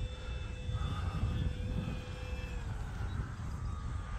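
An E-flite F4U-4 Corsair 1.2m electric RC model airplane on a 4S battery flies past outdoors, a steady whining motor drone that shifts slowly in pitch over constant wind rumble, moderately loud, without talk.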